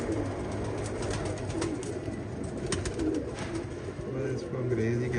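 Lakha pigeons of the Angrez breed coo softly and repeatedly among other birds, with voices talking in the background throughout.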